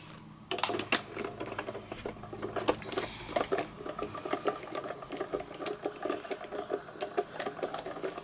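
Diamond Press die-cutting machine feeding paper and a pillow box die through its rollers, producing a steady, close mechanical whirring with rapid clicking and rattling pulses throughout, no voices.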